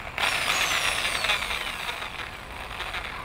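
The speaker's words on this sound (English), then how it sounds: "So we'll try to drill into this and see how it works." A Bosch GSB 500 RE corded impact drill in hammer mode bores into a brick wall, a loud, steady whining and rattling grind that starts abruptly and runs continuously, close to the microphone.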